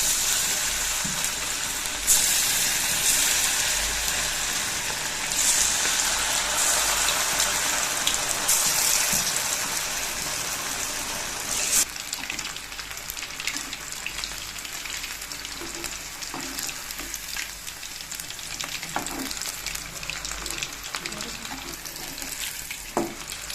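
Chicken pieces frying in hot oil in a pan for a Tamil capsicum chicken fry, a loud steady sizzle with bursts of crackle that eases to a softer, continuous hiss partway through.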